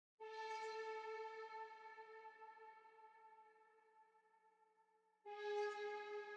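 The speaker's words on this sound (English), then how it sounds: "It's like an ethnic synth" Ethnic synth patch from a dark R&B beat made in FL Studio, a bright reedy sustained tone holding for about five seconds and slowly fading, then striking again, alone with no voices.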